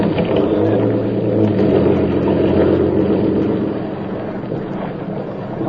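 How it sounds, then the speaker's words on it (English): Landing boats carrying Seabees head toward a Pacific beach, a loud, continuous rumble of engine and rushing water with wind buffeting throughout. "CBs clamber down over the side, down into the boats, and head for the beach."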